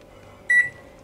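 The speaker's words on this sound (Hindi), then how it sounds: "माइक्रोवेव ऑन करेंगे।" A microwave oven on maximum micro mode being set and started for a mug dhokla gives one short electronic beep that stands out clearly against a quiet room.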